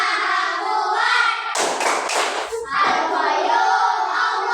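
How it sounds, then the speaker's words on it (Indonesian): A fifth-grade class performs the Asmaul Husna clapping chant in an Islamic studies lesson, with many voices chanting together in a steady dense blend and a short cluster of louder hand slaps and thumps near the middle. "Kelas 5 tepuk Asmaul Husna."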